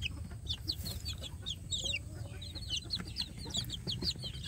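Village chicks kept in a box, a busy chorus of high, rapid peeping from many birds up close, continuous over a low rumbling background.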